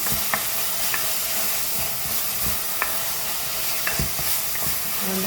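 Onions being stirred and sautéed in a pan for chicken kothumai, a steady close sizzle with intermittent scraping clicks of the spoon against the pan.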